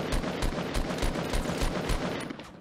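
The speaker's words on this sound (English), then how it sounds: "I shot the guy on the right." Rapid bursts of gunfire from the video game Fortnite, a dense run of loud repeated shots over about three seconds with no talk.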